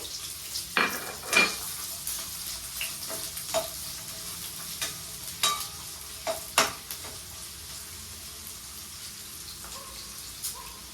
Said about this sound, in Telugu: ఉల్లిగడ్డ ఒకటి పెద్దది కోసి కట్ చేసి ఉంచుకున్నాను. చిన్న చిన్న ముక్కలు వేయించుకోవాలి.